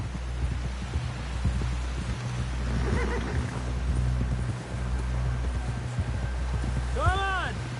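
In Red Dead Redemption 2, a horse's hooves pound in a steady galloping rhythm throughout, and a clear, close neigh rises and falls near the end.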